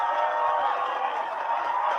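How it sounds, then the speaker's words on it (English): Applause at an online book club event, heard as a dense, steady wash of clapping and crowd noise that continues evenly for a couple of seconds. "Like applause"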